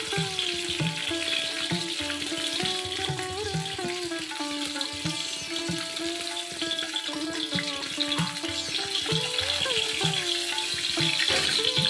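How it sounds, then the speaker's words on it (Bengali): Fish pieces for fish 65 frying in hot oil in a home kitchen, a steady close sizzle and crackle running throughout, with music playing underneath. "বাদবাকি মাছটাও এইভাবেই আমি ভেজে নেব।"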